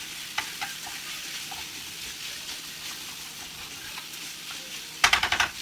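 Small portions of chicken sizzle steadily in a frying pan for lasagna, a soft continuous crackle with occasional pops, ending in a quick burst of stirring and scraping clatter.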